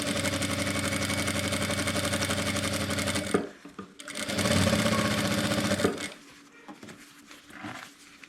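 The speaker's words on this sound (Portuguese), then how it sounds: "a agulha, fazendo retrocesso no início e no final, para que eu tenha uma segurança nessa costura aqui." A sewing machine stitches a fabric jar-lid cover with backstitching at the start and end: a long, close, rapid whirring run, a brief stop, another burst, then quieter short stitches.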